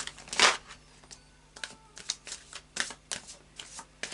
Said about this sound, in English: a final shuffle of the Psychic Tarot now